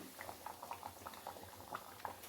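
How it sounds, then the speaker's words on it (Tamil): Fish curry in a pot boils at a quiet, close simmer, with steady bubbling and irregular small pops and blips. "குழம்பு நல்லா கொதிச்சிட்ருக்கு"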